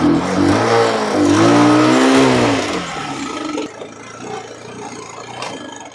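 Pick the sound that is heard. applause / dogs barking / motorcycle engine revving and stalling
motorcycle engine revving and stalling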